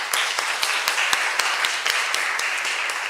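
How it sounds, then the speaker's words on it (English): Scattered audience clapping at the end of a long academic conference session, sparse and uneven with a few sharp distinct claps standing out over a softer background wash, moderately loud. "I think we can give a big applause"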